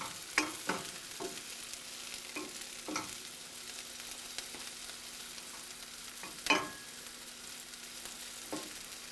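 Garlic fries quietly in a pan, a faint, steady sizzle broken by scattered clicks and scrapes as it is stirred.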